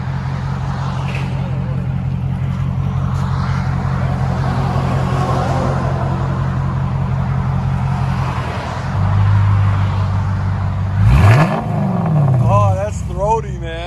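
2015 Dodge Charger R/T with a 5.7L HEMI V8 and dual exhaust fitted with glass packs, a deep steady idle rumble that swells into a loud throaty rev near the end, with someone talking over parts of it.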